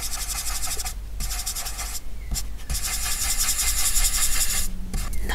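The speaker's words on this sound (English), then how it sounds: "Now I'm going to go back to the smudge stick." Smudge stick rubbed over a graphite pencil drawing on paper, close scratchy strokes in short bursts separated by brief pauses, a dry rasping texture with no talking.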